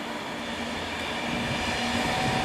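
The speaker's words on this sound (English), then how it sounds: "It is another Pendolino, I believe" A Pendolino train creeps past at South Hampstead at very low speed, giving a steady, close rolling rumble with a faint whine and light wheel clatter that holds evenly throughout.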